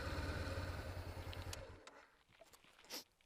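Honda CB500X motorcycle engine idling in the cold outdoors, a low steady rumble for about a second and a half that cuts off, leaving faint rustling and a soft thump.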